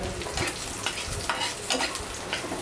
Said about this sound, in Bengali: চুলার আঁচ অল্প করে দিয়ে আমি এগুলো ভেজে নিব